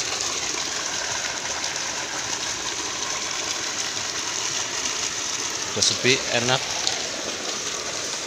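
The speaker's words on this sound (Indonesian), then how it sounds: "masih hujan." Steady outdoor rain falls at a private warm-water swimming pool in Guci, Tegal, a constant broadband hiss throughout, with someone speaking briefly over it.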